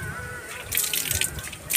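Water splashes and trickles onto damp soil over planted coconuts, a short close burst of pouring and dripping that swells midway and then eases off.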